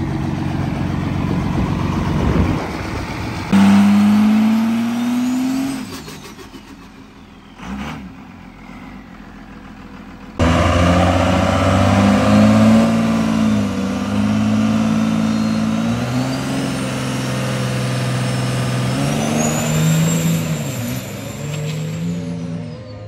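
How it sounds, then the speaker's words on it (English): Old VP truck engine at Great Lakes Dragway, idling and then revving hard with rising pitch through gear changes, loud and close, with no talking. "It's a nasty old VP truck here."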